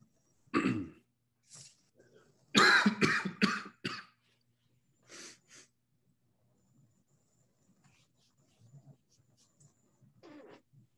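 Several close coughs and throat-clearing bursts at a school board meeting, a cluster of rapid hacks in the middle, then scattered quieter coughs amid near silence.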